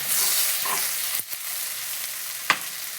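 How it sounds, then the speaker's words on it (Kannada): Peanuts roast in a pan with a steady, airy sizzle and hiss. A few sharp scrapes or clicks from stirring stand out near the middle and the end. "ಈ ಕಡೆ ಶೇಂಗಾ ಹುರ್ಕೋತಾ ಇದ್ದೀನಿ"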